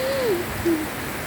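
Steady, even hiss of rain throughout, with two short low hooting bird calls near the start, no voices.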